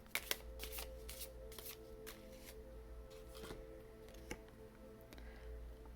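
Oracle cards being shuffled by hand in a quiet room, a steady run of soft riffling and flicking with a couple of sharper taps, close and low in level.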